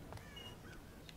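Crows caw in the stealth game Thief, two or three faint, short raspy calls over a steady low ambient drone of the game's soundscape.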